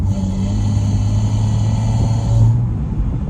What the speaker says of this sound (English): the air being sucked in over my left ear and through the air intake here